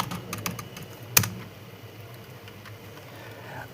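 Keys clatter in quick, uneven bursts as code is typed on a computer keyboard, with one louder sharp tap partway through, close and fairly quiet over a faint room hum.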